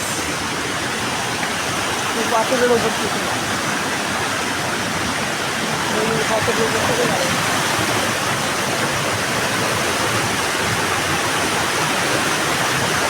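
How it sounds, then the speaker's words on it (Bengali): Steady rushing water of the Usri Falls stream pours continuously over rocks, loud and close, with a voice speaking briefly over it. "ঝর্ণার স্রোত যাচ্ছে দেখো"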